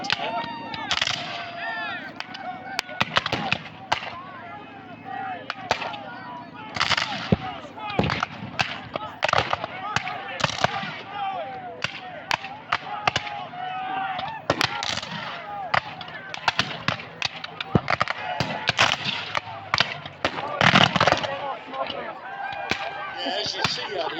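Repeated sharp black powder rifle and cannon reports crack and pop irregularly at a Civil War battle reenactment, some near and loud, others farther off, with voices talking among the volleys.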